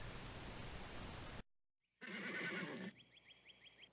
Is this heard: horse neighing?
yes